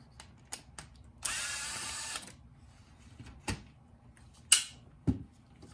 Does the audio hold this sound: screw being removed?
yes